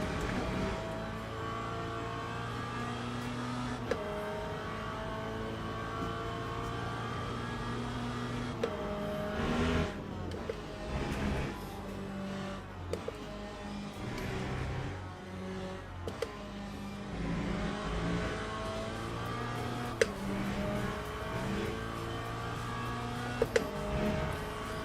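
A Corvette race car engine in Le Mans Ultimate drones steadily at racing speed, with its pitch shifting through gear changes and faint clicks, continuous and fairly quiet with no talk.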